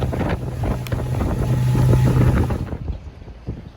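A boat moving at a good clip across the water toward South Lido Nature Park on a warm day, a steady engine drone with buffeting wind noise on the microphone that eases off near the end.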